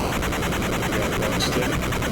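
Dense, rapid gunfire crackles continuously in a Teenage Mutant Ninja Turtles video game, loud and unbroken over a busy game soundtrack.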